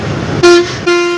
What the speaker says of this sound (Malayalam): ഹോൺ ഒരു രക്ഷയില്ലാത്ത സൗണ്ടാണ് കേട്ടോ,